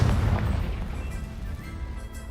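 Bombarda and Confringo spell blasts from a Hogwarts game burst with a loud, deep booming explosion that rumbles and slowly fades.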